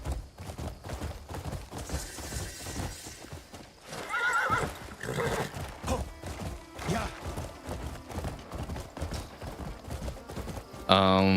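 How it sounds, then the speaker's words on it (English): Horse neighing with hooves clopping in the Crimson Desert video game, a whinny rising mid-clip over steady hoofbeats, mixed with game sounds and a voice talking throughout. "Come on, horse."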